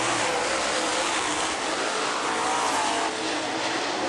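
UMP late model race cars roar around a dirt oval during a heat race, a loud, continuous wall of engine noise from several cars running close together down the back straightaway, with no voices heard.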